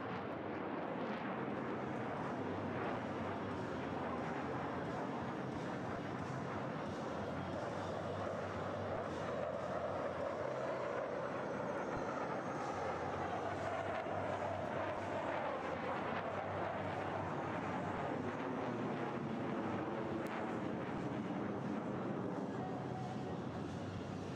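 Two solo Blue Angels aerobatic jets trailing smoke make an opposing 360 pass at an air show, a distant, steady roar under wind noise that slowly swells and fades with no clear peak.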